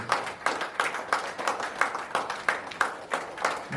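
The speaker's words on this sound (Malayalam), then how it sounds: "കയ്യടി" A hall audience at a Lions Club installation ceremony claps together in a steady, rhythmic round of applause, fairly close and moderately loud, with faint voices mixed underneath.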